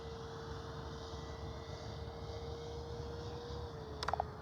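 A remote control airplane fitted with a Lemon RX Gen 2 receiver flies at a distance, giving a faint, steady motor drone that holds an even pitch, with a brief click near the end.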